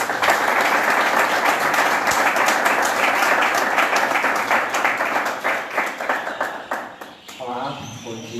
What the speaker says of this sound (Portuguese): Acolhamo-lo em nosso meio com uma calorosa salva de palmas.